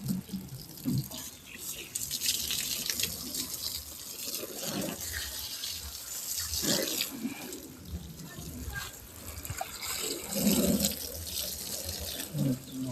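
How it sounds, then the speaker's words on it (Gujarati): Pressurized water sprays over a car being washed outdoors, a hissing, splashing wash with intermittent surges, while people talk over it. "ફર્સ્ટ ક્લાસ ધોવાઈ ગઈ ગાડી પાણીની પ્રેશર હોય ને મસ્ત રીતે ધોવાઈ જાય ગાડી"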